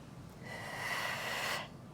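A long, steady breath drawn in during a slow breathing exercise, a smooth airy rush close to the microphone that swells and then stops.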